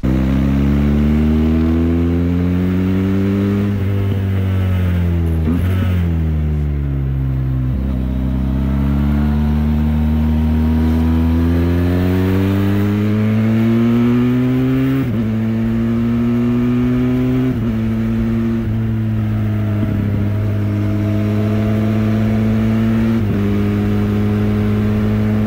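A Benelli TRK502X motorcycle engine revs and pulls through repeated gear changes, its loud, near drone climbing in pitch, dropping at each shift, then rising again over about twenty-five seconds, with no voices.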